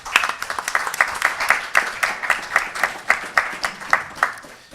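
An audience at an academic literary conference claps steadily for a few seconds, the individual claps distinct and rhythmic rather than a dense roar, moderately close.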